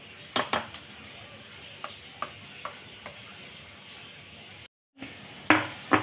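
A spoon stirs a mango mixture evenly in a bowl, with a few sharp clinks and taps against the sides, widely spaced and fairly close, and a brief gap of silence near the end.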